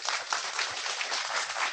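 An audience at a film festival screening Q&A breaks into steady applause to welcome the director, a dense, even patter of many hands clapping together at moderate distance with no voices over it.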